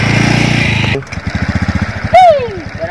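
A small motorcycle engine revs loudly up close and then drops to a rapid, pulsing putter, broken by a brief rising-and-falling whine; a voice can be heard in the mix.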